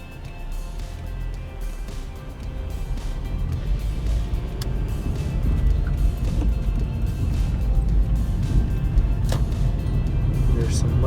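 A Toyota Celica GTS fitted with an aftermarket exhaust drives along, its engine and exhaust producing a steady low rumble that grows slightly louder midway, with road noise throughout and a person talking over it.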